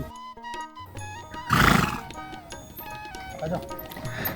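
A cart horse in a riverside char village lets out one loud, close whinny midway, with people talking around it and rural background noise.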